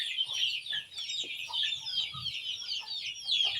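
Several chickens cluck and chatter continuously in a dense, busy flock, close by and fairly loud, with scattered short calls overlapping throughout and no talking.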